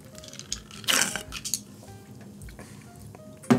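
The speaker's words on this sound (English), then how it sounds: "A little bit more ice, because ice shouldn't float. Stir a little bit." Ice clinking and rattling against glass as a cocktail is stirred, with scattered soft clinks and a couple of louder knocks, fairly close and quiet.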